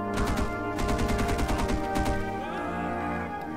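Gunfire in a staged battle scene, rapid repeated shots blending into a dense, continuous loud burst over a steady background roar, fading slightly toward the end.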